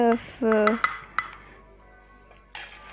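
Clattering of a pot and utensils as kofta in sauce is scraped out into a serving dish, with a few sharp clinks and soft scraping, close by, after a brief burst of talking.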